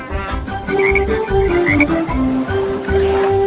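Croaking frog sounds in a children's song about green speckled frogs, a run of loud, close croaks set against a tuneful musical backing.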